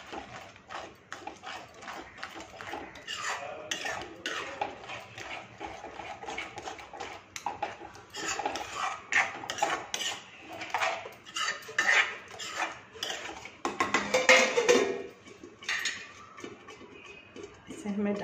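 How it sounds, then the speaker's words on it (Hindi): A spoon scrapes and clanks against a pan while spices are stirred into a cauliflower curry, with steady irregular metallic knocks throughout and someone talking over them. "इसको हमें चला देना है"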